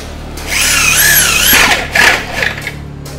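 A power drill bores holes in an aluminium window frame, its high whining bursts rising and falling in pitch, then short gritty bites as the bit cuts through the metal, loud and close.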